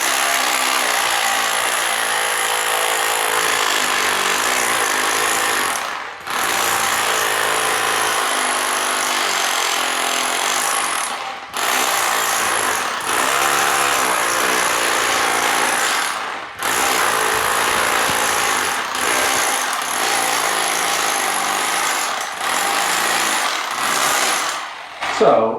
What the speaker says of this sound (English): So we're on the jackhammer setting right now.